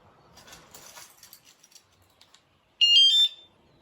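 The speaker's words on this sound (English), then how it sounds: "That second beep is gonna let you know it's ready to go" A wsdcam 113dB wireless vibration and motion bike alarm gives a short, loud electronic beep after some quiet handling noises.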